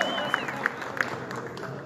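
Hands clap at a body-painting session for a Peruvian national team shirt, three or four sharp, evenly spaced claps close by, with soft crowd murmur behind them.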